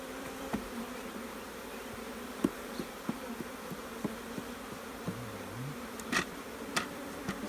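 A relocated honeybee swarm hums softly and steadily inside a hive box, with scattered light clicks and taps against the low buzzing.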